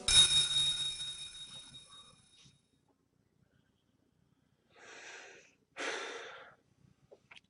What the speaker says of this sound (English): the sound of a bell.